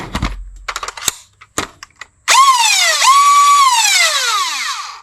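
A few sharp mechanical clicks, then a loud whirring whine of a foam dart blaster's micro-flywheel motors (NG-4 Amarok) spinning up, dipping once and revving again before winding down.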